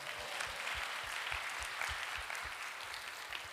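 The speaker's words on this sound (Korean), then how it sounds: "성령 하나님께 영광의 박수 올려드립니다." A church revival congregation applauds, dense continuous clapping from a large crowd heard at a distance, steady and fairly faint, with rhythmic low thumps running beneath it.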